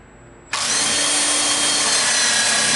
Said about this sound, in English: So I'm going to put something in back of where I'm drilling through so that it doesn't blow out the drawer front